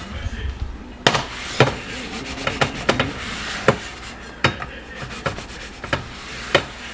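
A dirty Ninja Foodi Neverstick nonstick pan being scrubbed clean, heard as close scraping rubs broken by sharp knocks and clatters of the pan at irregular intervals, with a voice talking at times.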